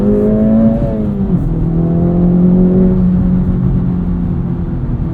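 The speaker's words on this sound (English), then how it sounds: "we're going to give us some revs" A 2024 Acura Integra Type S engine revs up close inside the cabin, a loud droning tone that climbs, drops back between gear changes, then holds steady and eases off.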